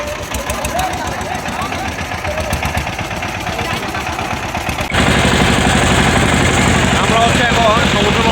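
Engine of a hired trawler boat running at sea off Bashbaria beach, a loud continuous chugging drone that grows louder and rougher partway through, with voices over it.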